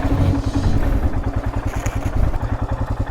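A motorcycle rides off-road along a muddy track beside a lake after rain, its engine chugging in a close, loud, pulsing rhythm with some clatter, and no talking.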